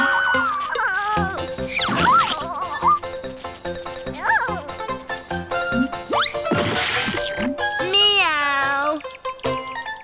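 A voice imitates a cat's meow, drawn-out and wavering, over busy cartoon music with chimes and bouncy effects.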